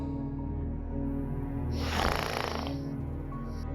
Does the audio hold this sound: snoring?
yes